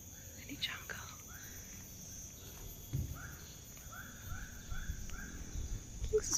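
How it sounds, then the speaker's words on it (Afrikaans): Frogs calling in a Thai jungle treetop, a series of short, evenly spaced, monkey-like chirping calls at moderate distance, with quiet whispering and a faint steady insect tone underneath. "Sy sê dit klink soos apies, maar sy nou sê dis paddas, is dit seker paddas."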